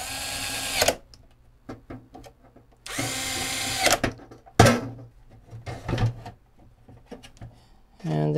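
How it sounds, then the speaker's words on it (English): A power drill drives screws into an Apple HD20SC hard disk's Sony power supply, giving several loud bursts of whirring plus short clicks and handling knocks in between, all close up. "So then it's a matter of putting in the screws."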